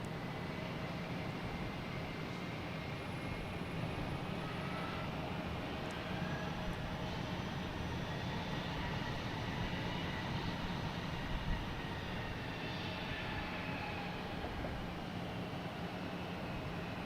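Faint, distant roar of an Aer Lingus airliner arriving from Dublin at Boston Logan Airport, a steady low rumble with slowly shifting tones and no voices.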